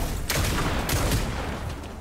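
Gunfire in the Fortnite video game: several sharp, loud shots crack over a noisy, busy game background in a quick burst, with no voices.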